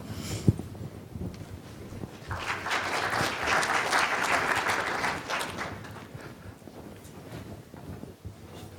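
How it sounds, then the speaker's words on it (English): Audience applause at a steel sustainability conference session rises after a brief pause, holds as steady clapping for a few seconds, then thins out and fades, heard in a room with no talk. "I will assume that applause is for Erica"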